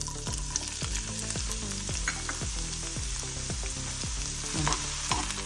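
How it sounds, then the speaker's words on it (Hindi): Onion frying in hot oil in a pan for shrimp sukhe, a steady dense sizzle that stays up close and constant, with light clinks of a stirring spoon. "कांदो बरो मोव जायसर तळसून घेवया"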